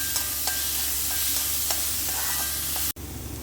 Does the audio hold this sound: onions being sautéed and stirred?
yes